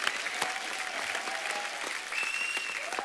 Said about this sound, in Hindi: और शिखर पाजी के लिए भी जोरदार तालियां